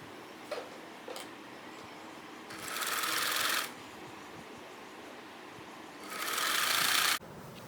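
A sewing machine stitching a wrap dress runs in two loud, steady bursts of rapid whirring, separated by quieter pauses with a few small clicks of handling.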